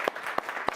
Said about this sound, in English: Like I want to applaud you guys.